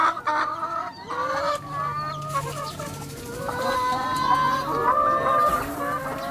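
Several organically raised chickens cluck and call close by, overlapping with varied pitches, with a steady background of farmyard noise.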